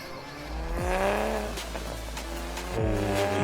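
Black and yellow Toyota Supra sports cars rev and rumble nearby, engine pitch rising and falling in a couple of throaty surges over a steady low drone, with no talking.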